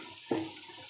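Soft sizzling and a brief stir in a pan as garlic and spices cook for Indian dal fry with tadka, with a low steady hiss and one short scrape.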